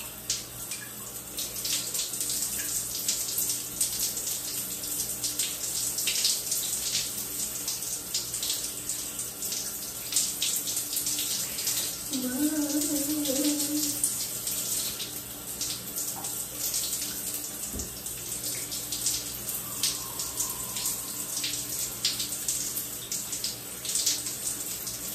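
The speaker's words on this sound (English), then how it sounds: "so I can wash my hair" Water runs steadily from a tap while someone washes their hair, a continuous close hiss and splash that holds an even level throughout, with no talking.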